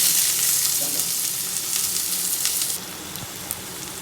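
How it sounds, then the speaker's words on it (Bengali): Chopped onions fry in hot oil with cumin in a pan for a prawn curry, a close, loud, continuous sizzle with faint stirring that drops noticeably quieter near the end, no voices. "দেখো পেঁয়াজটা কিন্তু ভাজা ভাজা হচ্ছে"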